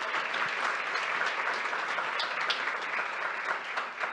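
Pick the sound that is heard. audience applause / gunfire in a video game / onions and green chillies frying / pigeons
audience applause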